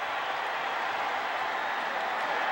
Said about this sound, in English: the crowd from Louisville is cheering